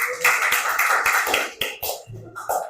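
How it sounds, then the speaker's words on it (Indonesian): A group of students claps together in a classroom, a dense patter of many hands that rises and thins across the moment, with no talking over it. "Dan tepuk tangan untuk kalian semua."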